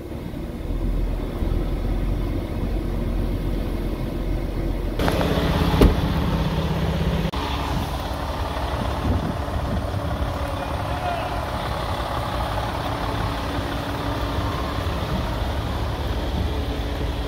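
A Freightliner truck engine runs steadily, a low continuous rumble with a brief sharper burst partway through as it comes up to idle, and speech can be heard over it.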